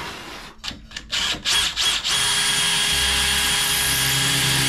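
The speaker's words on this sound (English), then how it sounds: "So we're gonna drill the pilot hole first. Use the drill." Power drill boring a pilot hole into a kitchen cabinet, a few short start-stop whirs that ramp up into a steady, loud, high-pitched spin held to the end, close by.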